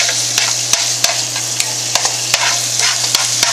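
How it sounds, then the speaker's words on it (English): Ground beef sizzles steadily in a skillet, a constant frying hiss broken by regular sharp scrapes and taps of a utensil stirring the meat, close and fairly loud with no voices. "Back to the ground beef. Beef is cooking up pretty good."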